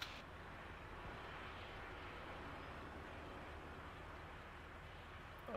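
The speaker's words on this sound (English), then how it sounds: "It's a jet." A jet aircraft flying over in the military video game Arma: a steady, faint, broad roar that holds evenly throughout with no other distinct sounds.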